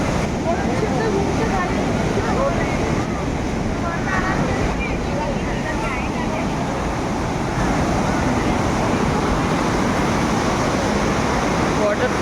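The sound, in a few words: river water rushing under a bridge near Manikaran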